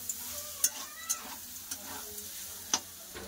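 Greens and onion frying in a pan while being stirred, with a soft, steady sizzle broken by a few sharp scrape and click sounds from the spatula. Fairly quiet and close.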